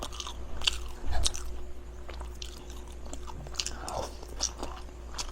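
Someone eats fried egg with kimchi fried rice, with close, crisp bites and repeated chewing and crunching in an uneven rhythm over a quiet room, and no talking.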